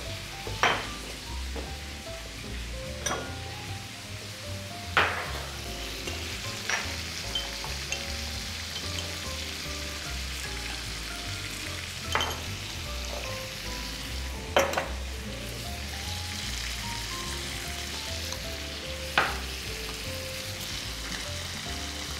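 Veal liver frying in a pan, giving a steady close sizzle with occasional sharp clinks and taps from a utensil at irregular intervals, and no one talking.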